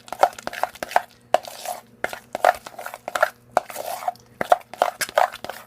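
Sweet potato is mashed and mixed with cream in a bowl, making rhythmic, sharp tapping knocks of a utensil against the dish, close and fairly loud.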